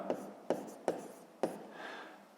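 A pen writes on paper during a sixth-grade maths exercise: four sharp scratchy strokes close by, evenly spaced, then a softer rubbing trail, with no talk.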